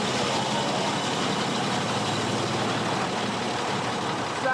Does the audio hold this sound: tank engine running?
yes